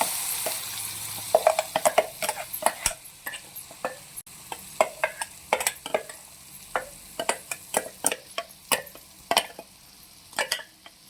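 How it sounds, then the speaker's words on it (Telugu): Frying paste with turmeric and asafoetida sizzles steadily in oil while a spoon scrapes and stirs through it in repeated clicks and scrapes, close and fairly loud. "మంచిగా మిక్స్ అయ్యేలా కలుపుకోవాలి ఆయిల్లో"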